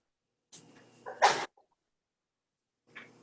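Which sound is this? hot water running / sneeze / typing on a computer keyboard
sneeze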